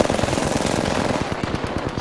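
Rapid automatic gunfire from an Apex Legends firefight, a dense, loud, steady stream of shots rattling for the whole stretch with no talking over it.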